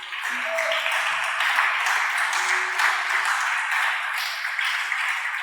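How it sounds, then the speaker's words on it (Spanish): Sustained applause from a church congregation fills the room with dense, steady clapping after a call to applaud during a Christian service, with no speech over it. "Denle un aplauso al Señor."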